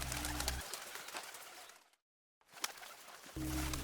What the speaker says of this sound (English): pigeon, pigeon